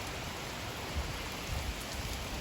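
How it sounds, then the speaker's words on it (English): Hail falls during a big storm over a garden, a dense, steady hiss of pelting ice at low level with scattered heavier thuds and no voices. "It does look like snow, doesn't it? But it's called hail."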